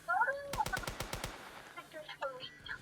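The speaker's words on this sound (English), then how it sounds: "Literally, my guns won't stop shooting." Roblox automatic gunfire rips out in a rapid burst of about eight sharp shots, with softer in-game chirps and tones before and after it.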